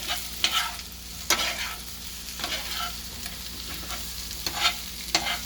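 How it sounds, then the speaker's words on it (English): Potatoes frying with onions and masala get stirred in a pan, a few distinct scraping strokes over a constant low sizzle, close and with no voices. "I'm just going to give it a nice stir and coat all the potatoes with the onions and all the masalas"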